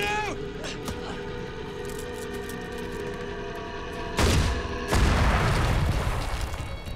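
A rocket is fired during a special forces troops-in-contact drill, heard as a sudden loud whooshing burst over constant droning helicopter noise, followed by a second heavy blast that roars on.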